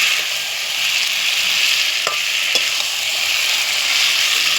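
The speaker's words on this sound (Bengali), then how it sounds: "কত সুন্দর মাংসটা দিয়ে তেল বেরিয়ে আসছে আস্তে আস্তে, তাই আমাদের কষানোটা হয়ে এসছে।" Chicken curry fries in oil in a pot over a wood fire, making a loud, dense, continuous sizzle. A couple of faint clinks of stirring sit inside it, and there is no talk.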